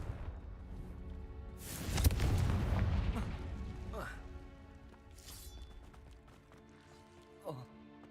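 A Confringo fire spell cast in Hogwarts Legacy on hard mode bursts into a loud whooshing, crackling blast that booms for about a second and fades into a rumbling tail, with a few sharper magical zips after it.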